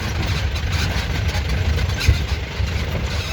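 A jeep engine idling on a hill track near Munnar, a loud steady low rumble that stays close and even, with no talk over it.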